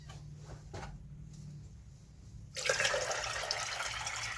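Rock dust water poured into a container for a houseplant brew, starting as a quiet low hum before a loud, steady splashing pour of liquid begins partway through and continues to the end.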